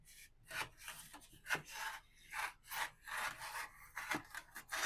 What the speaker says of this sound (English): Just need to cut off just enough here so it'll float. See how straight I can do this freehand.